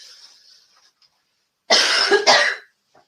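A man during a live business masterclass gives two harsh, close coughs in quick succession after a brief faint sound, with silence around them.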